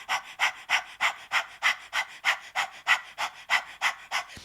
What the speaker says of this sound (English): This is a very light panting breath.